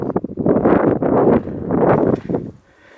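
Strong wind at an abandoned mine site buffets the microphone in loud, rumbling gusts that rise and fall, then drops to a quieter lull near the end.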